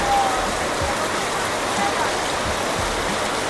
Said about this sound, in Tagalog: Grabing ulan.